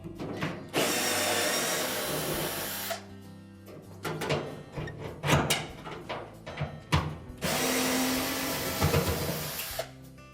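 Power tool whirring in repeated bursts while removing the two bolts securing the top of a Whirlpool washer, loud and close with short gaps and clanks between runs.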